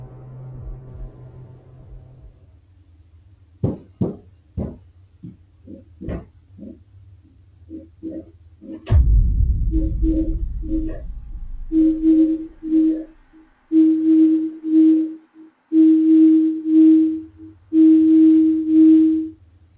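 Loud knocks hit a basement door in an empty house while a ceiling fan runs, giving a string of sharp, irregular bangs followed by a rumble and then repeated steady tonal beeping, with no voices.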